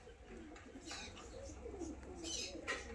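A Madras pigeon coos at a pigeon sale, soft repeated throaty calls set against a busy, noisy background with a hint of voices.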